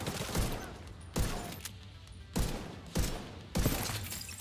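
Diamondback lever-action rifle firing in The Division 2, four sharp, loud shots spaced about a second apart, each cutting off into a brief quieter gap, with no voices over them.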